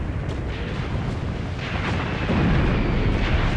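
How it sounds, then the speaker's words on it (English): In Graviteam Tactics: Mius Front, an artillery shell strikes an SdKfz vehicle on the Eastern Front. Dense, rumbling battlefield blasts build into a heavier, louder impact partway through, with no talking. "direct artillery strike on the SDKFZ"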